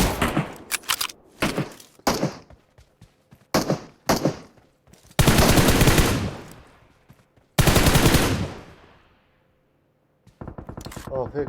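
Gunfire in PUBG Mobile: several short automatic bursts followed by two long sustained sprays of loud fire, with brief gaps of quiet between them, close and punchy, no speech over it.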